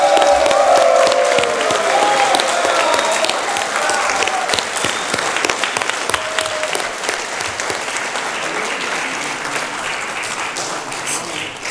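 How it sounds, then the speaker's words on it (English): A conference audience in Dubai stands and applauds in a sustained, dense wash of clapping that begins loud and tapers slightly over about twelve seconds, with faint voices mixed in. "I suggest that you stand up and applaud together to our company and our performance"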